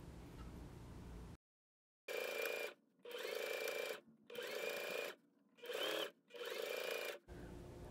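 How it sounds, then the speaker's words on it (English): Sewing machine stitching straight lines across a fabric dog bed, running in five steady bursts of whirring stitching separated by brief pauses, close and fairly loud with no talking. "Now let's go and sew these lines."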